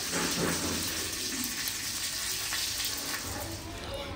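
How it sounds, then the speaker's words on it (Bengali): Fish fries in a pan with a steady, loud, close sizzle that holds throughout with little variation, and no voices. "আর এখন মাছ ভাজা হচ্ছে"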